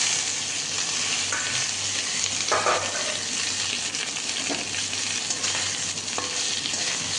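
Boiled potatoes and soybean chunks fry in hot ghee in a wok, with a steady close sizzle and occasional scraping stirs and light clinks, alone without talk.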